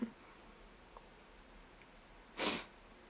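One short, sharp sneeze bursts out near the end, close and loud, after a few seconds of near silence.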